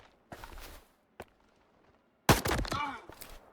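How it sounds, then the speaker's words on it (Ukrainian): Rifle gunshot in the video game STALKER 2, a single sharp loud crack followed by a brief echoing tail, preceded by faint shuffling movement sounds. "Теж один постріл."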